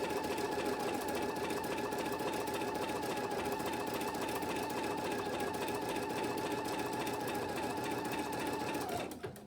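An embroidery machine stitches out an April bunny design with an orange peel center, a fast, even mechanical chatter that runs steadily and close until it stops just before the end.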